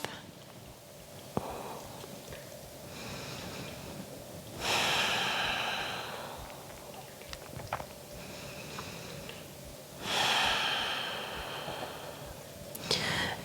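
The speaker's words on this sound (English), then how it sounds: "3 more breaths." Slow, audible breaths during a yin yoga hip session, two long swelling exhales standing out faintly against a quiet room with soft background noise, spaced several seconds apart.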